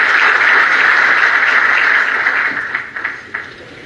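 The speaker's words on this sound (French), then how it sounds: "Sous vos applaudissements, mesdames et messieurs." An audience at a digital technology conference gives dense, loud applause that thins out and fades toward the end.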